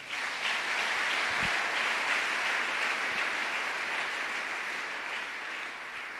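A church congregation applauds during a morning prayer service, a steady, even roar of many hands clapping that carries on throughout and eases slightly toward the end.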